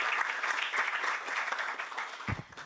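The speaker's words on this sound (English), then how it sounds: "Ladies and gentlemen, a round of applause for Tanya Hirstova." Steady applause from a conference audience in Brussels fills the room for nearly the whole stretch, then thins out as a speaker's voice comes in near the end.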